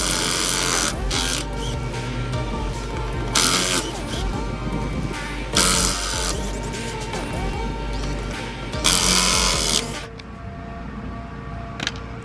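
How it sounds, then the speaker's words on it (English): A 19mm impact wrench removes wheel nuts during a rear wheel spacer installation, several loud bursts of rapid hammering rattle over steady mechanical noise before cutting off near the end. "I'm going to be using a 19mm wrench impact."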